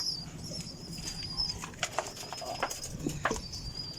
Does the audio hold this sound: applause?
no